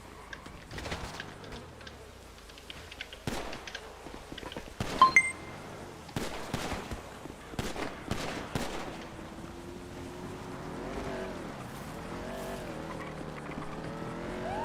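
A red two-door Ferrari sports car in the game FiveM (GTA V) pulls away with sharp knocks and a tire squeal, then its engine settles into a steady rising whine, moderately loud and alone.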